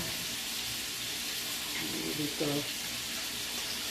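Tap water running steadily into a kitchen sink as hands are rinsed during cooking, a broad constant rush with a brief splash, and a voice speaks over it.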